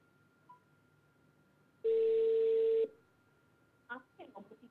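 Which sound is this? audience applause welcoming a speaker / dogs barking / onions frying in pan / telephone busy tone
telephone busy tone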